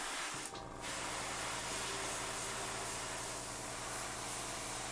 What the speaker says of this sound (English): We're just doing short controlled bursts because we don't want to spray liquid everywhere.